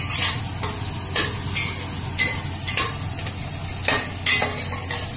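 Mashed tomatoes frying in a pan give a continuous soft sizzle, broken every second or so by sharp bursts of a spoon or spatula stirring and scraping, close and moderately loud, with no talking.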